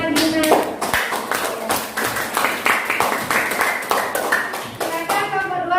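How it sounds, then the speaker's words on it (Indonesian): An audience claps steadily in a room, a close run of brisk, uneven hand claps lasting several seconds while a voice speaks at the start and end. "Boleh kita berikan tepuk tangan lagi"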